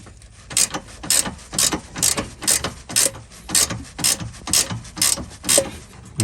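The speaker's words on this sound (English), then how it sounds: "I'm gonna ratchet it out" A hand ratchet with a 12 millimetre socket backs out a sway bar bushing bolt on a vehicle with 264,000 miles, clicking in a quick, even rhythm of about a dozen close, loud strokes.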